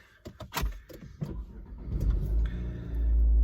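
A car engine starts up for a drive on a hot day, with a few clicks and rustles followed by the motor catching and settling into a low, growing rumble close by.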